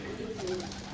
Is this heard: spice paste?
no